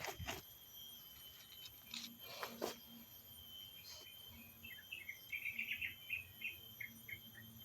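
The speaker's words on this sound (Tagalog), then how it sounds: "puro mga tunog ng mga ibon." Faint birds chirping in short, scattered bursts over a quiet outdoor background with a steady insect hum.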